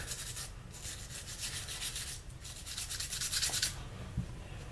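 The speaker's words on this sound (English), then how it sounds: "we'll just wipe off the excess here and actually clean up some of that" A cloth wipes excess solvent or oil off a Phoenix Arms pistol during cleaning, making steady, close scrubbing and rubbing strokes with a brief pause midway and a slightly louder burst near the end.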